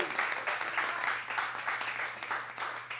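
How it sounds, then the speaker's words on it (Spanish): Audience applause for a presenter at a tech talk on education and AI, a moderate round of many hands clapping with a soft steady hum beneath, lasting about three seconds. "Un aplauso para Nina, por favor, por esto."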